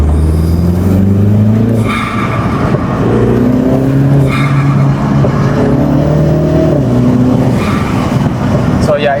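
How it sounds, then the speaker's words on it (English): With the window open, a MINI F56's intake roars loudly through rising revs, the turbo spooling up and whooshing between gear changes. "we open the window and we're gonna hear how the intake sounds with the windows open"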